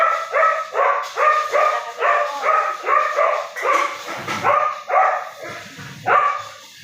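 A pet dog barks repeatedly in a kitchen during cooking, about ten loud, close, evenly spaced barks with a few whimpering yips near the end and no talk.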